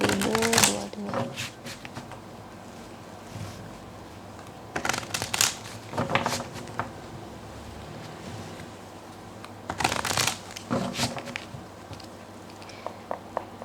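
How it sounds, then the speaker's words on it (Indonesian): Tarot cards are shuffled in several soft, riffling bursts separated by quieter pauses, heard up close in a calm room. "terutama ketika aku shuffle kartu ini"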